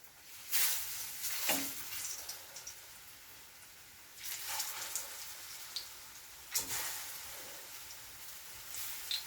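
Slices of sweet ripe plantain frying in very hot oil, a steady soft sizzle with a few louder crackling surges as pieces are added, heard close up and alone.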